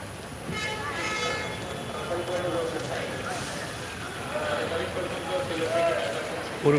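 Ambience at Sylhet railway station, seen from just outside the station building: a train rumbles with a metallic rail hum, and indistinct crowd noise and voices spread through the busy surroundings at a moderate distance.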